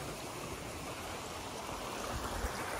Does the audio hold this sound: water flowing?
yes